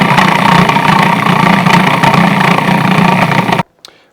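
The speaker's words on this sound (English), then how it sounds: "I'm sorry to say that this food processor is not doing a very good job." A food processor blends basil pesto with oil, its motor running in a steady loud whir with churning grind, then cuts off abruptly near the end followed by a faint clink.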